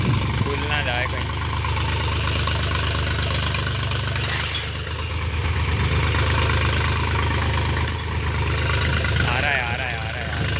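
A tractor engine runs steadily in an Indian farm village setting, a loud continuous low chugging drone that holds throughout, with people talking over it.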